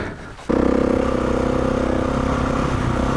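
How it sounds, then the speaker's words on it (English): A motorcycle ridden through sand, with the engine cutting in abruptly and then holding a loud, steady, close drone with a fast pulsing beat, alone without talk. "Oh, this bike is so good in the sand."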